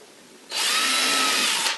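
A power drill whirs up sharply and runs steadily for over a second, driving an extra screw into handmade wooden furniture, close and loud after a quiet start.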